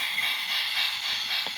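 Steady steam hiss from a Thomas wooden railway toy train runs throughout with a faint rattle, moderately quiet and continuous, with a brief knock near the end and no voices.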